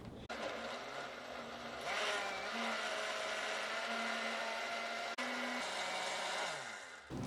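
A commercial blender runs loud and steady, whipping salsa with water into a smooth puree, its motor drone shifting pitch a few times and cutting out briefly before resuming.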